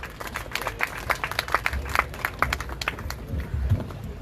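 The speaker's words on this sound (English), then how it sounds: "Please give him a harder round of applause, everybody." An audience at a prize distribution ceremony for a national Red Run applauds Shripad Naik, with scattered, uneven hand claps rising and falling throughout and no clear voices.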